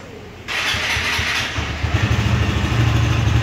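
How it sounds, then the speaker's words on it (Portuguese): A motorcycle fitted with a new exhaust starts up and settles into a loud, throaty idle with rhythmic exhaust pulses, close by. "Agora tá com escape novo, agora dá vida nos cromos"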